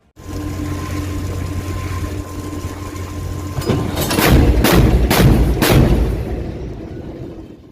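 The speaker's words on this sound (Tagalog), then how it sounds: "third quarter test firing ng naval guns, na ginanap noong September 16, 2023, sa Grande Island, Zambales, gamit ang 76mm Super Rapid Multi-Feed Gun ng barko" A warship's 76mm Super Rapid Multi-Feed naval gun is test-fired off Grande Island, Zambales: a steady engine rumble, then four heavy booming shots in quick succession, loud and close, with no talking.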